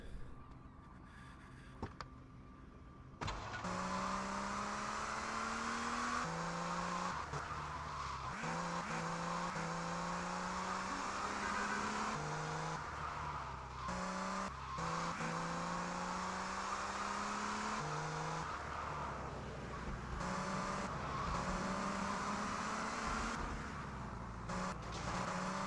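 Cars driving in the video game Vice City, a loud continuous engine roar rising in pitch through repeated gear changes, mixed with tire squeal and skidding, with a brief quieter stretch at the start.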